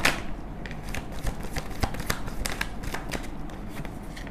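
Tarot cards are shuffled for a reading, with a steady run of close, quiet riffling snaps and soft papery slaps repeating at an uneven rhythm across the whole stretch.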